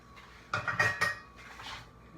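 Spoon clattering against a pot while milk sauce for a homemade chicken pot pie is stirred: a cluster of close metallic knocks and scrapes midway, then softer stirring.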